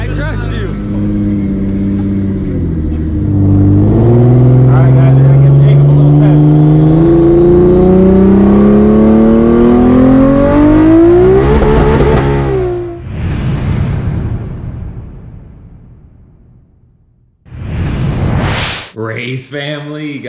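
A Toyota Supra accelerates hard, its engine note climbing in pitch through a long loud rev before easing off and fading, followed by a sudden burst of noise and people talking.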